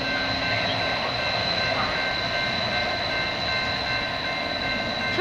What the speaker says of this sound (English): This is the 802 Metro.